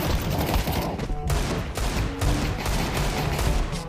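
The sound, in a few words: Desert Eagle pistol shots in video game Counter-Strike 2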